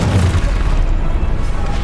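In Hogwarts Legacy, a Confringo blasting spell erupts in a loud, deep boom, a single heavy low rumble that fills the moment and fades briefly.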